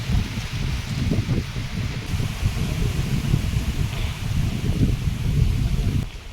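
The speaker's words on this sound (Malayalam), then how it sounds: "നല്ല കാറ്റുണ്ട്" Strong wind buffets the microphone beside a fishing pond in Palakkad, a loud, steady low rumble of gusts that rises and falls for several seconds before easing off abruptly near the end.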